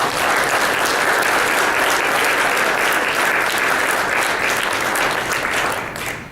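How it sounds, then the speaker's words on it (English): Loud, sustained applause from a large crowd fills the space, holding steady before tapering slightly at the end. "we want to give him another round of applause"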